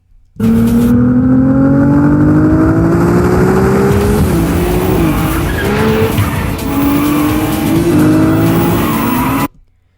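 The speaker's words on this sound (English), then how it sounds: "Let's have a quick look again at the video of the car driving." A Ferrari 296 GTB roars past loudly with high engine revs and squealing tires, the engine pitch shifting as it passes, then cutting off abruptly.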